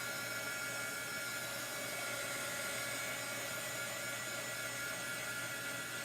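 A heat tool blows a steady, even whoosh of hot air while drying chalk ink on fabric, running continuously without a break and heard alone.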